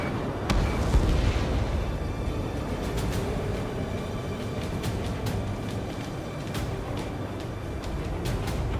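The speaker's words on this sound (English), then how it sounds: "Their artillery fire just missed us off our starboard side." Artillery explosions rumble through a combat scene in Ace Combat 7, a dense, continuous low roar with sharp crackling pops scattered throughout, loud and sustained for the whole stretch.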